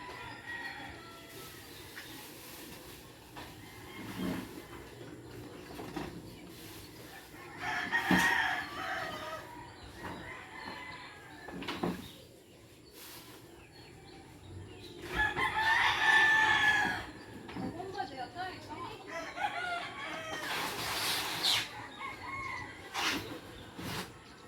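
Frizzle chickens in an outdoor garden cluck on and off, with several louder bursts of crowing, heard fairly near and alone without talk.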